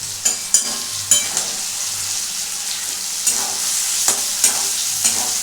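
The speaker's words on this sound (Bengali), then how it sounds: "এটাকে একটু নাড়বো।" Pointed gourd frying in a pan and being stirred, giving a steady soft sizzle broken by several sharp scraping clicks of the spatula at irregular intervals, close up with no talking.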